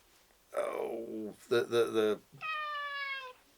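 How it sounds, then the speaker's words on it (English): A cat meows several times close up: a drawn-out falling cry, then two or three quick warbling meows and a final steady, tonal call. "There's a cat down there."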